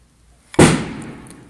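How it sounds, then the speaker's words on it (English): A single sharp firework bang goes off outdoors around the Fourth of July, loud and close, followed by a crackling, fading tail, with a couple of faint pops afterward. "people are still lighting fireworks nowadays on 4th of July"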